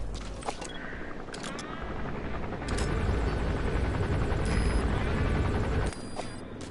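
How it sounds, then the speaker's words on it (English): Helicopter arriving in the video game Metal Gear Solid V, a steady loud rotor drone with game effects and gunfire-like bursts layered over it, building slightly before easing off near the end. "Oh, here comes the helicopter."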